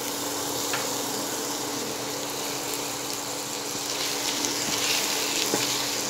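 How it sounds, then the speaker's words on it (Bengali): Chopped ginger and garlic sizzle steadily in hot mustard oil, a continuous close frying hiss with occasional small crackles. "এইবারে আমি দেব হাফ চামচ আদা আর রসুন দুটো কুচি।"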